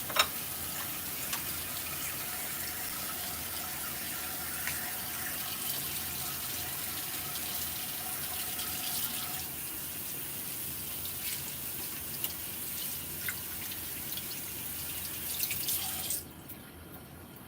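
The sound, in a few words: running tap water while washing hands with soap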